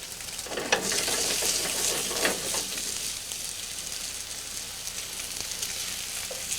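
Salmon fillet frying over medium heat in clarified butter in a pan, giving a steady, close, broadband sizzle that holds throughout with faint stirring touches and no talk.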